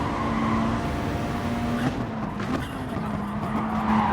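Race cars in Gran Turismo Sport, with a McLaren going off track: steady engine drone and whine, brief scrapes and knocks around the two-and-a-half-second mark.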